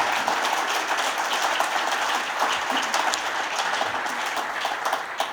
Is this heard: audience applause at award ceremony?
yes